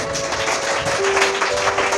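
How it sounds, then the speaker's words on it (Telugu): Dense, steady applause from a church congregation at a Telugu worship service fills the whole stretch, broadband and continuous with a faint sustained tone running underneath. "గట్టిగా చప్పట్లు కొట్టండి"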